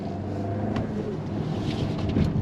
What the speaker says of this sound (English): how the turbocharged engine develops its power with the 4Motion